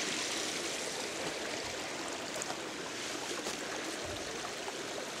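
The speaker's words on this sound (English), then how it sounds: "crossing a cute bridge over this wonderfully babbling brook of awesomeness" Babbling brook beneath a bridge at Grant Grove among giant sequoias, a steady close rush and gurgle of flowing water that fills the whole stretch, with no voices.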